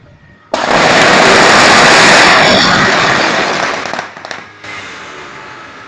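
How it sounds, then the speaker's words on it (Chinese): Firecrackers go off at a temple deity-palanquin procession in Puzi, Chiayi, in a loud, dense crackling barrage lasting several seconds, close by, then tailing off into scattered pops. "神教下面都要放鞭炮的"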